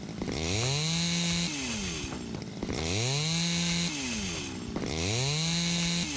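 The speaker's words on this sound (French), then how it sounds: "Le son de la tronçonneuse, je sais qu'il est horrible, les gars" A chainsaw cuts wood in the video game House Builder: loud, close revving that surges and settles in three repeated cycles over steady motor drone, with no voices.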